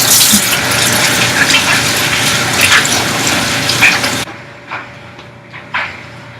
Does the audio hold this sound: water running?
yes